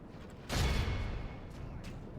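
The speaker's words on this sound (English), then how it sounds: "So this big mortar shot's going." A heavy mortar shot in the Third Age: Total War battle game, a single loud low boom that swells abruptly and then rumbles on as a sustained roar, with faint later thuds behind it and no talking.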